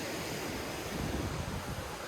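A river and waterfall rush in a steady, dense wash of flowing water, loud and continuous with some wind buffeting the microphone.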